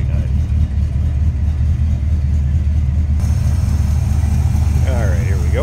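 A 1969 Ford Galaxie XL's 429 V8 idles with a steady deep low rumble from the open engine bay, close and continuous, with a brief higher squeal near the end.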